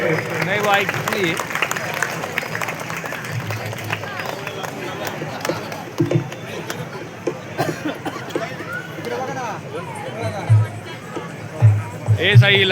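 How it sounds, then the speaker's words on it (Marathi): A crowd in an auditorium claps during the inauguration of a hall dome in Satpur, the applause and general murmur running under someone speaking through a loudspeaker. "सर्वांनी टाळ्या स्वागत करायचे"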